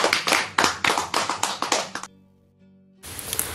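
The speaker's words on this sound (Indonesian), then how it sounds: "Tepuk tangan." Audience clapping at a Christian gathering, a loud burst of closely spaced claps for about two seconds that stops abruptly, then a short quiet hum before a noisy resumption.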